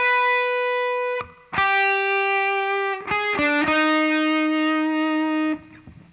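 Distorted electric guitar playing the opening riff of a song, loud sustained notes with effects shimmer, changing pitch in a few held phrases, played alone without talk.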